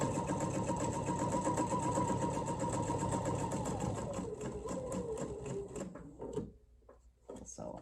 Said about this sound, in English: So now when I sew, I'm going to start sewing slowly